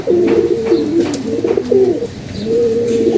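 Paired pigeons, including Babu, silver and army breeds, coo in repeated low, throaty rolls, close and loud with no talking.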